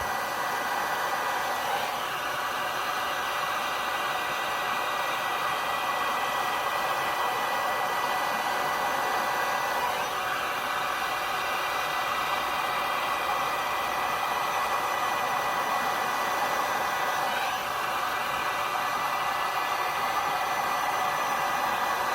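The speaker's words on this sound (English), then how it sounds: "I use a Wagner Inferno 550 for my tumblers. I'm going to turn the fan on high." A Wagner Inferno 550 heat gun runs on its high fan setting, giving a steady, loud, continuous rushing blow that holds unchanged from start to finish with no voices.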